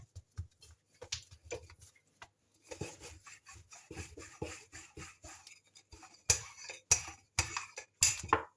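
Pide dough balls being rolled out on a work surface, with soft rubbing and rolling scrapes in an irregular rhythm, occasional light taps and knocks, close and fairly quiet.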